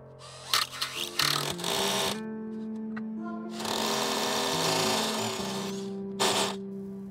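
A power drill boring a hole into a wall while battery inverter trunking is being mounted, heard as short stuttering starts followed by two longer sustained whirring runs and a final brief burst, fairly close.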